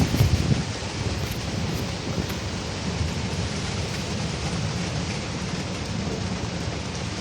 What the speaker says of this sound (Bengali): অনেক বৃষ্টি আর বাতাস হচ্ছে